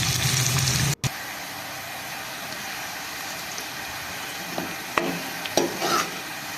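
Onions frying in a pan for dal, a faint steady sizzle near the microphone, cut by a brief dropout early on and followed by a few light stirring clicks.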